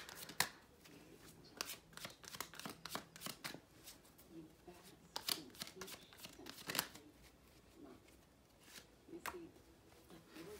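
Tarot cards shuffled in repeated quick riffling bursts, close and crisp, with brief pauses between runs and someone speaking softly at times underneath.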